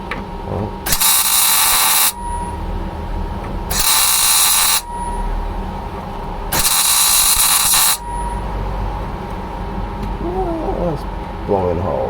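MIG welding on a Citroen C3 body panel, with three long bursts of loud crackling arc noise separated by pauses and some background clatter, the welder blowing holes through the thin metal.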